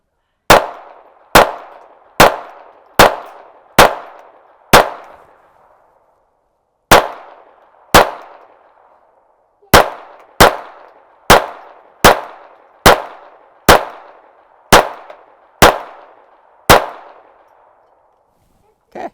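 A Taurus TX22 pistol fitted with a muzzle brake fires fifteen sharp, loud shots in quick runs, with one short pause partway through. Each crack rings out briefly and no voices are heard.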